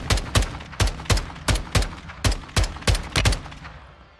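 Gunfire from a first-person shooter game, about a dozen sharp, loud shots in an uneven rapid rhythm, each a hard crack with a short tail, heard alone.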